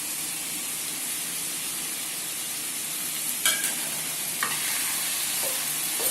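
Chicken curry stirred in a pan with chili powder and salt: a steady, even sizzle and hiss with a few brief scraping knocks of the spoon toward the end, and no voices.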